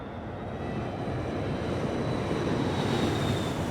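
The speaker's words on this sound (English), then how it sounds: "As the plane descends," Steady broadband roar of an American Airlines passenger jet's engines during descent toward rough stormy weather, a continuous even drone heard from inside the cabin with no voices.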